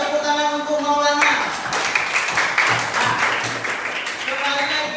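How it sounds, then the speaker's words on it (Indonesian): Classroom audience in a computational thinking lesson claps for a student, a burst of applause breaking in after a voice and continuing under intermittent talk. "Tepuk tangan untuk Maulana."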